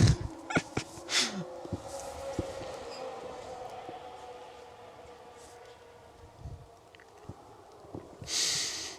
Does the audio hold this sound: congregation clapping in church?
no